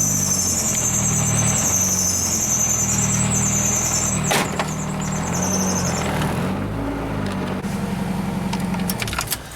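A car engine runs close by with a loud, steady rumbling idle overlaid by a high squealing whine, broken midway by a sharp clunk, then settling back into continuous running.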